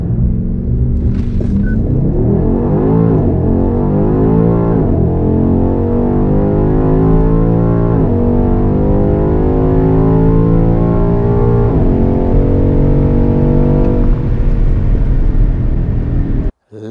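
A BMW X6M Competition SUV accelerates hard from 0 to 100 km/h, its engine roaring loud and steady from inside the cabin while rising and dropping pitch through several gear shifts.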